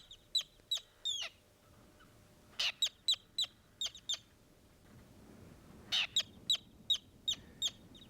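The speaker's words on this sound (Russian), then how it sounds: "Самыми бесстрашными родителями оказались полярные крачки" Sharp, high chirping calls of Arctic terns come in rapid bursts, several in a row, then a pause before another cluster, over faint background noise in the tundra.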